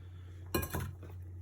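A bowl is picked up and set down on a kitchen counter while making 72-hour pizza dough: one sharp clink with a short ringing tail over a steady low hum.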